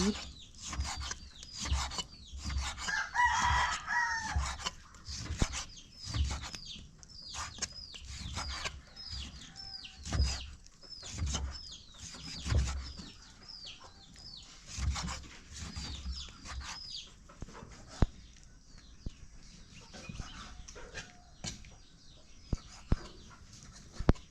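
Chickens cluck and a rooster crows repeatedly at a rural farm field where a family stays overnight, with scattered close clucks, rustling and occasional sharp knocks throughout, and no talking.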